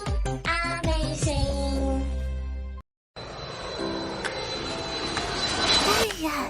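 In an animated jungle adventure, an airplane engine roars as a steady, broad whooshing drone after a sudden break, following a stretch of bright cartoon music and voice.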